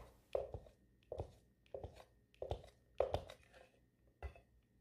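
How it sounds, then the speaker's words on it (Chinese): A knife chopping soaked dried shrimp on a cutting board: six or seven separate, close knocks at an uneven pace, each a sharp thud with a brief clatter, and no voices. "浸软咗之后呢将佢切碎。"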